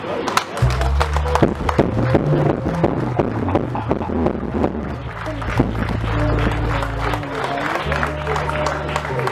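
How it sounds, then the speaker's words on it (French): A gathered audience stands and applauds guests at an association's founding ceremony, a thick, continuous clapping mixed with crowd shuffling and a low steady hum beneath it, lasting throughout. "j'inviterai particulièrement les amis de Matadi de vous lever et d'applaudir vraiment frénétiquement pour tous nos invités"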